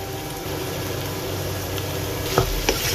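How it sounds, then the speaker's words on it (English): Prawn, potato and okra masala being stirred in a hot pan, giving a steady close sizzle with soft scraping of the spoon. Two brief clinks of utensil against the pan come near the end. "Mix it well."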